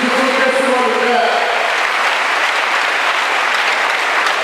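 Church congregation clapping together in worship, dense continuous applause from a large group, loud and sustained throughout.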